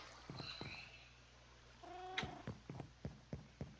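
Cats in the Minecraft video game: a short meow-like mew followed by a series of soft, rhythmic chirps and thumps, faint against a quiet background.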